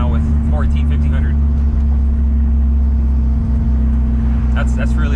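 A Toyota Supra with a full exhaust idles smoothly, producing a loud, steady low rumble with a constant droning tone. Brief bursts of other noise appear near the start and end.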